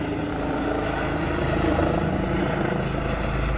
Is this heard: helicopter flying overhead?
yes